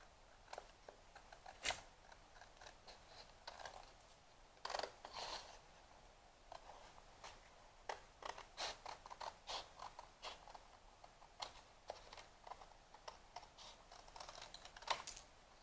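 Small cutting tool slicing a slit in a cardboard gift box, a faint series of irregular crisp clicks and scratchy snips close up, quiet and alone.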